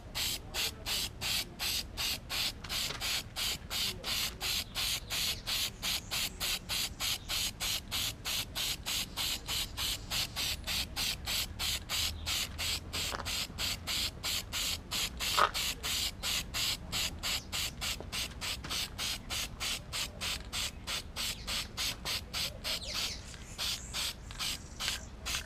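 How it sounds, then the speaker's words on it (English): Plasti Dip spray paint hissing from an aerosol can onto a mag wheel, a steady rapid pulsing spray with a faint rattling texture, close and continuous throughout. "Quick test spray."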